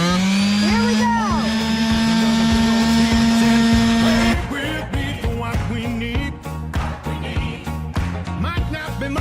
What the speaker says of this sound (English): while you're sanding it, there's going to be a lot of sawdust in the air